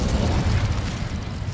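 A fire spell cast in the Hogwarts Legacy game gives a short, loud, dense burst of roaring flame, a broad rushing whoosh with a low rumble that holds steady for about a second and a half.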